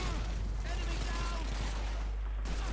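Bursts of gunfire and battle noise from the Call of Duty 2 video game form a dense, loud wall with a constant low rumble, while a voice talks over the action.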